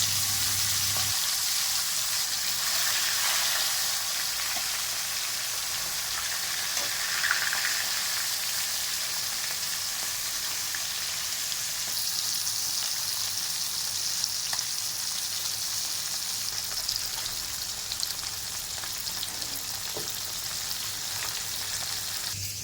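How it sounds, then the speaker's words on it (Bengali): Continuous loud sizzling of koi fish frying in hot mustard oil, a dense bubbling hiss with occasional pops and brief stirring sounds, close up. "তেল গরম হয়ে গেছে, এবার কই মাছগুলো দিয়ে দেবো।"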